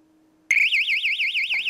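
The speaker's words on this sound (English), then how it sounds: "This siren is made out of cheap chinesium." A cheap piezo siren on a 12 volt power supply suddenly starts after a faint hum and wails loud, shrill and close, its pitch warbling rapidly up and down in a steady cycle.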